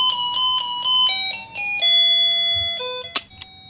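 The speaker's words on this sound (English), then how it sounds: "when a push button is pressed, it plays a melody on this 8 ohm speaker" A small battery-powered musical doorbell circuit built on a UM66 tone chip plays a bright electronic chime melody through an 8 ohm speaker, loud and close, ending with a couple of clicks.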